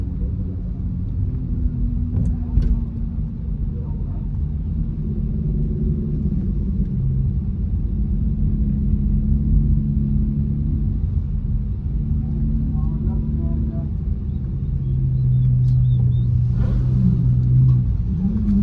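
A gutted 2019 Dodge Charger and a Mustang drag race at a drag strip, heard as a loud, continuous low engine rumble that swells as the cars accelerate, with distant revving near the end.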